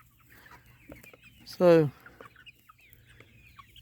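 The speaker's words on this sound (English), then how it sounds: "Man, that's a beautiful rooster." A rooster in a chicken hoop house gives one short, loud, harmonic cluck-like call. Softer clucks and faint farmyard noise sit around it, and someone says a single word.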